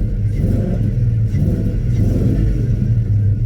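An LS-powered Chevrolet C10 pickup with a suspected fuel pump problem idles close by, giving a loud, steady, deep rumble with no talking over it.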